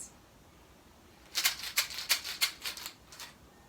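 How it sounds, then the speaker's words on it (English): Dry macaroni pasta rattling inside a homemade egg shaker, a rapid series of about eight rhythmic bright shakes, close and clear, with silence before and after. "some dry macaroni pasta,"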